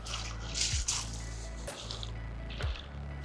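Feet wade into the icy, glacier-fed water of Oldenvatnet lake in Norway, making a few close sloshing, squishing splashes over a steady outdoor rush.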